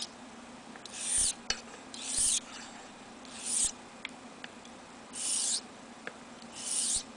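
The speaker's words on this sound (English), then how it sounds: "if you hear me dragging it back, I just kind of drag it on the spine sometimes" A straight razor is drawn across a 1000 grit honing stone in five or six separate scraping strokes, each lasting about half a second. Small taps and clicks fall between the strokes, all quiet and close with no talk.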